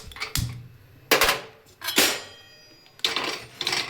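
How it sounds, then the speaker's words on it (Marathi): A few sharp metallic clunks and clatters as a pressure cooker is set on the stovetop to heat, spaced about a second apart with quiet between. "कुकर ठेवलं"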